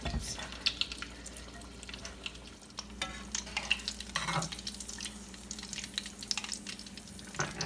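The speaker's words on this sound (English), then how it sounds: "ball of onions frying in my oil for flavor" Onions frying in oil for a fried fish stew give a steady close sizzle with scattered crackles and a few stirring scrapes, no voices.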